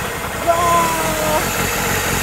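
A Toyota 86 or Subaru BRZ engine runs at idle with a steady low rumble at Fuji Speedway, mixed with people chatting and exclaiming nearby.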